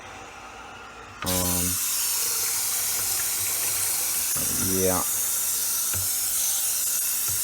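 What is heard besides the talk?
hot water pouring into aquarium tank, steaming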